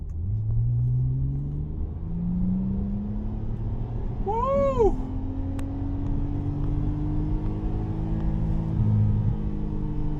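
A Porsche 911 Turbo S in Sport Plus mode accelerates along a highway, its engine a steady loud rumble throughout, with a short high whoop of a voice partway through.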